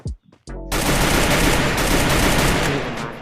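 Gunfire in the mobile battle-royale game Free Fire: a brief pause broken by a few sharp shots, then a loud, dense burst of rapid automatic fire that roars on for several seconds before fading slightly.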